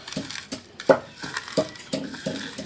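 Dried chilies, fried crisp in oil, are crushed to powder for a chalta pickle, giving a close, irregular run of sharp crunching and scraping knocks, about eight strikes with no talk.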